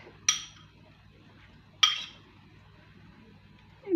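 A metal ladle clinks down in a quiet kitchen during mushroom and onion prep, two sharp, bright metallic knocks about a second and a half apart, followed by a faint low thud.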